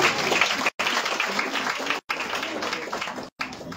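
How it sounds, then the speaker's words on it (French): An audience at a certificate ceremony claps steadily, a close, dense wash of applause. It is broken by three brief cuts to silence, with no talking over it. "On acclame également, hein?"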